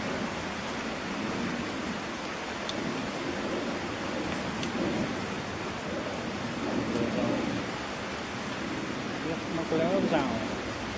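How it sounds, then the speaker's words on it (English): A river flows near a campsite with a constant broadband rush, loud and close, and a muffled voice speaks faintly beneath it. "I apologise if you can't hear me over the sound of the river"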